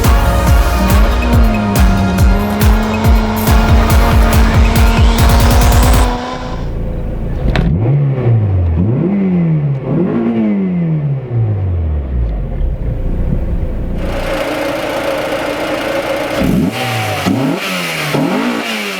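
Honda Civic EK with a JDM H23A engine swap revving hard through rising gears, then dropping to a lower rumble, repeated climbing pulls, loud and close from inside the car.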